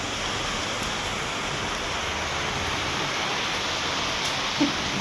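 Steady evening rain in Kolkata falls outside an open window, a constant, even hiss of moderate loudness without pauses or other sounds.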